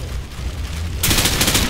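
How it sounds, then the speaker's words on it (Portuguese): Gunfire in Call of Duty erupts halfway through as a loud, rapid burst of shots after a moment of low rumbling background, without any talk. "Caralho, que tiro!"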